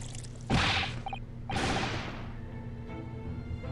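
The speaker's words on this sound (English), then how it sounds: "Stop pouring tea on this poor man." Tea poured onto a man in The Great Ace Attorney Chronicles, heard as two quick splashing swooshes about a second apart, each followed by a dripping, trickling wash that fades out.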